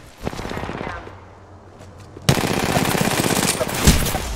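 Automatic weapon fire in the Apex Legends video game, a dense rapid burst at first, a brief lull, then a louder sustained barrage of close shots with faint game noise underneath.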